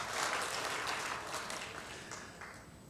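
A church congregation claps together in a steady, dense wash of applause that fades slightly toward the end, with no voices rising above it.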